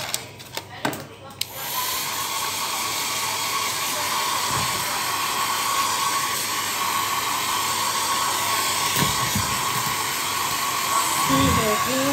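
A pet blower drying a small dog runs with a steady, loud whooshing hum after a few brief knocks at the start, and a person talks intermittently over it.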